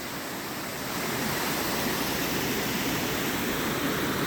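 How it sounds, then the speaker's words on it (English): Small waterfalls along a mountain hiking trail in the Smokies produce a steady, broad rush of splashing water, continuous and fairly close, with no other sounds standing out. "Cool little waterfalls."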